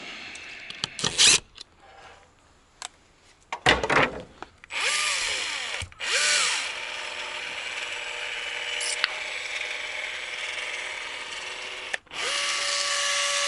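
A cordless power drill backs screws out of a cleat on a metal roof panel: several short whirring bursts with ratcheting clicks, then longer steady spins separated by pauses, close and fairly loud.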